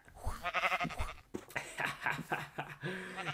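Sheep bleats from a Minecraft-style animation, several wavering cries in a row with a laugh mixed in, loud and close.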